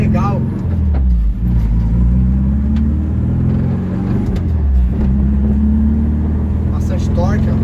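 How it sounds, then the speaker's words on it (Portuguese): VW Kombi van fitted with a Subaru 2.5 engine, its smooth exhaust droning steadily at close range with a low, continuous rumble and slight shifts in pitch, while someone talks over it throughout. "Escapamento bem suave, galera."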